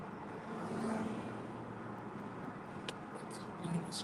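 Steady road roar of highway traffic heard from inside a car on Toronto's Highway 401 near McCowan, a continuous low rumble with tire hiss and no talking.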